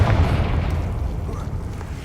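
Confringo explosive spell going off in Hogwarts Legacy, a loud booming blast at the start that decays into a rumbling low tail, close and heavy, with faint game voices underneath.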